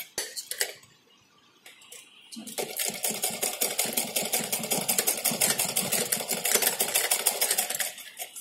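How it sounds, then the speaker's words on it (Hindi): Sewing machine stitching pleats into a cotton fabric face mask, running in a steady close rapid rhythm for several seconds after brief handling noises and a pause. "फिर हम यहाँ पे सिलाई लगाएंगे।"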